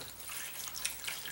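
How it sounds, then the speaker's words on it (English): Water splashes and trickles over a duct tape fire starter set in a container, a close, fairly quiet burst of pouring with small spattering drips and no speech. "Cover it with water."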